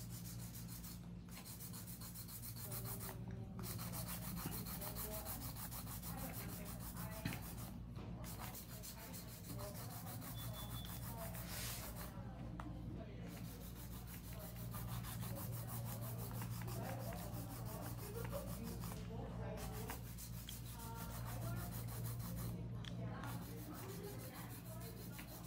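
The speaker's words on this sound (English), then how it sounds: "So I'm just gonna keep hand filing there." A hand file rubs steadily over a marble coffin-shaped acrylic nail, a continuous scratchy rasp with brief pauses between strokes over a low background hum.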